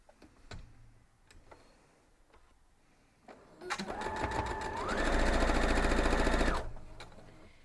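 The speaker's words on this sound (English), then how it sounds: "So now we're just going to sew this." A sewing machine stitches a quilt block. A few scattered handling clicks come first, then the machine starts, whirs steadily and speeds up into a fast rattling run before stopping abruptly. The sound is close and quiet.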